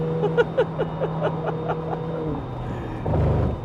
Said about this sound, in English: I decide to floor it and the twin turbo V8 comes to life